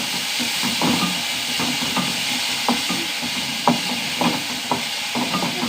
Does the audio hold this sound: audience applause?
no